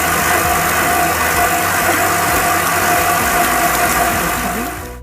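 Stand mixer with a dough hook kneading brioche dough at low speed, giving a steady, close motor hum that runs unbroken and tapers off right at the end.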